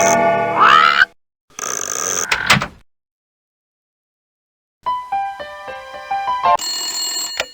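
A telephone ringing in the 1995 PC game Lamb Chop Loves Music, with repeated electronic ring tones and chiming melodic notes after a burst of other game sounds and a stretch of silence.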